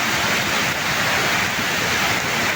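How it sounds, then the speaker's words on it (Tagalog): Rushing water from a small creek swollen into a torrent by heavy typhoon rain. The roar is loud, steady and broadband, filling the whole stretch without a break and with no voices. "Yung maliit na sapa namin, ganito na kalaki anyway"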